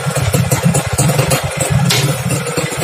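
A motorcycle engine idles up close with a rough, rapid chugging beat, loud and steady throughout.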